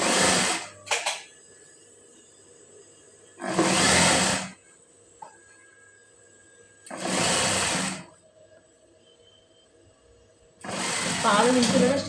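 Sewing machine stitching a blouse seam in four loud, steady whirring bursts of about a second each, separated by quiet pauses, with a brief click near the start.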